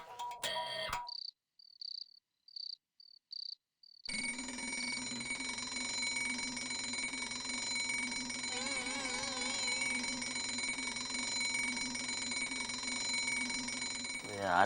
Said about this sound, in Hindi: अलार्म रख के खुद सो रही है